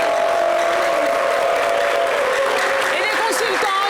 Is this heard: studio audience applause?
yes